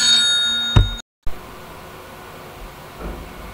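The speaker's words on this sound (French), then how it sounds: "le téléphone sonne" A telephone ringing indoors, heard as a steady electronic ring with a brief burst near the start before cutting off to a quiet background.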